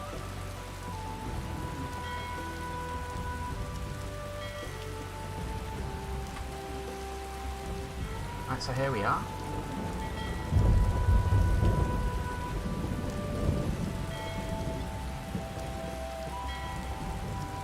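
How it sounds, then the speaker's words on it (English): Steady rain pours in the video game Skyrim while thunder rumbles and cracks midway, low booms rolling under a soft musical drone; someone speaks briefly. "Still hearing a thunderstorm."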